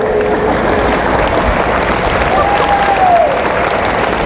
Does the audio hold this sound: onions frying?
no